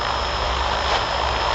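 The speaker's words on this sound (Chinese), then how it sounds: "无人机啊，无人机喷农药。" An agricultural spraying drone, large enough to carry 25 to 50 kilograms of pesticide, hovers and sprays over farmland with a loud, continuous rotor whine and buzz that stays steady and nearby.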